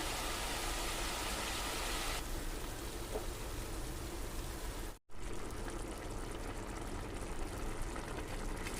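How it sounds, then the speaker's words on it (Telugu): Water pours steadily into a pan of chicken cashew curry with tomato, a continuous close rushing stream that briefly cuts out partway through, with no talk. "కొంచెం వాటర్ పోసుకుందాం"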